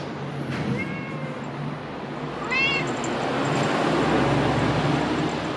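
A cat gives two short meows, one early and one near the middle, heard close but fairly soft over steady outdoor traffic noise.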